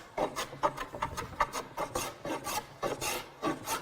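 A hand plane scrub-planing wood to take out twist, making quick, rhythmic rasping strokes, roughly two per second, close and steady with no talk.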